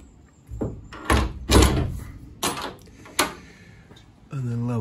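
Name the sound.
door being closed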